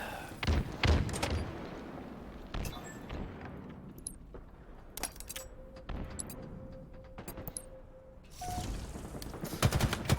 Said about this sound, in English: I hear the blue bridge shots here